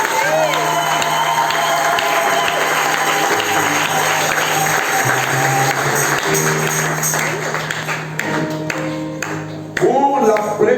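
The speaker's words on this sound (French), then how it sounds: "Acclamez très fort le Seigneur." A wedding congregation breaks into sustained loud applause and cheering, with whoops, over steady background music. Voices carry through the crowd noise until a sharper cheer near the end.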